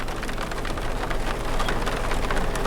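Steady rain pours down in a dense, even hiss, with drops pattering on a surface throughout, heard from a window in Chloride Canyon, New Mexico back country.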